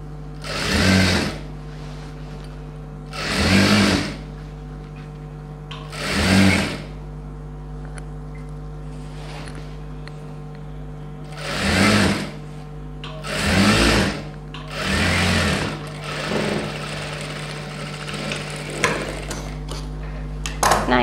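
Sewing machine stitching pattu pavadai silk fabric: six short bursts of rapid whirring needle clatter, close and loud, separated by pauses with a steady low motor hum underneath.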